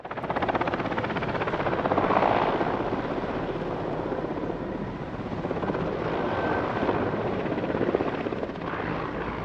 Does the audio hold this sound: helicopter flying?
yes